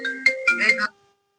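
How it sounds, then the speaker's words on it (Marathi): A phone ringtone plays a short melodic burst of tonal notes, clear and close, then it stops abruptly. "फोन आला."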